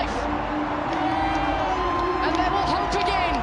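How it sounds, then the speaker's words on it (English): A stadium crowd at a T20 World Cup cricket match cheers and roars with whoops over a steady, dense wash of noise, with commentary talk running over it throughout. "The crowd comes to life."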